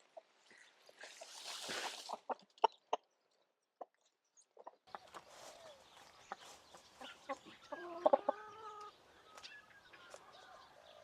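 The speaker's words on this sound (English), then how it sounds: "this pile will be shared with my backyard chickens who missed out on the bounty yesterday" Backyard chickens cluck and squawk in bursts as they are fed corn in a summer vegetable garden, with a loud flurry early on, a brief quiet, then steady close clucking and calls.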